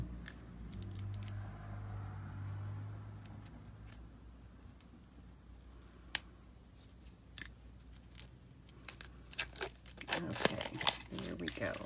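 Sealed packaging on an oracle deck and book set is pulled and torn open by hand, quiet crinkling and scattered sharp rips that grow busier and louder near the end, with talk in between.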